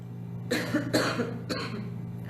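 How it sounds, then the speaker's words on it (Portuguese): A few short coughs, two or three bursts in quick succession, close and moderately loud, with no talking. "Posso tossir, gente."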